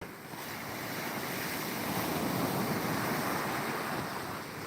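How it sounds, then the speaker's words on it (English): Atlantic Ocean waves roll in on the shore in Ghana, a broad continuous wash of surf with wind noise that swells slightly midway, steady and close with no voices. "Watching the waves come in on the Atlantic Ocean here."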